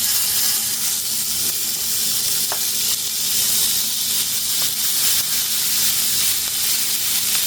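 Steady, loud sizzling and crackling of burger patties frying in a very hot pan, continuous with no talking.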